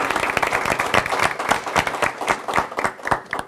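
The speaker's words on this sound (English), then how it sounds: "let's give a big round of applause for Haley" Audience applause for award recipient Haley at a July 2014 school board meeting: steady, dense clapping from a room full of people, loud and continuous throughout with no talk over it.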